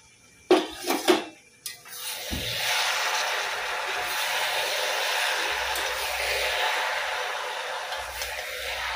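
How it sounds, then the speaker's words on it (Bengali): A lid clatters off a pot with a few sharp metallic clanks, then Malabar spinach (pui shak) cooked with a fish head gives a steady close hiss as it is stirred, with no talking. "তো চলো ওইদিকে পুঁই শাকটা একটু নেড়ে নিই"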